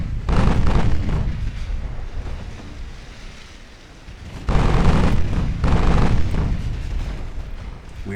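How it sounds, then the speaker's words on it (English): Warship main guns fire broadside in a naval battle in Ultimate Admiral Dreadnoughts: two loud, broad booming blasts several seconds apart, each rolling into a long rumble over steady wind-and-sea noise. "Full spread, fire at will. In fact, switch to AP rounds with the main guns."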